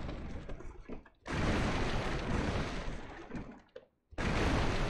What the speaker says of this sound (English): I can't hear you over all these barrels being broken